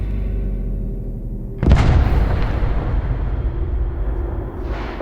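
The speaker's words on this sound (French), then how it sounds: "La bombe dissimulée dans la boîte explose avec une telle force que l'onde de choc sera ressentie sur plusieurs kilomètres à la ronde." A bomb hidden inside a box detonates in one sudden powerful blast, followed by a long roaring rumble and debris-like crackle that slowly fades, heard alone and close.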